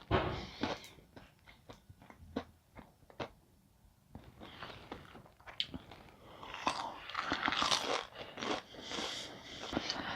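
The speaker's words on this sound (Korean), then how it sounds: "바삭바삭하고 새우깡 같아가지고 꼬리까지 다 먹어요" Crunchy fried shrimp tempura is bitten and chewed close up, with sharp crackling bites in quick bursts that grow busier and louder toward the end, no talking.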